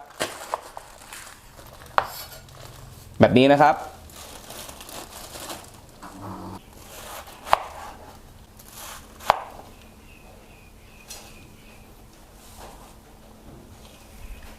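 A knife chops off enoki mushroom stem bases on a board, with a cluster of brisk cuts and scattered single taps and crinkles, and a brief spoken phrase.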